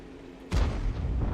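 A single heavy tank cannon round fires in a tank battle video game, a sudden deep boom that cuts in sharply and rolls on with a rumbling tail.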